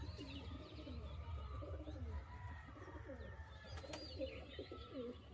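Pigeons in a loft of flying and young birds coo softly and repeatedly, with overlapping calls from several birds over a low background hum.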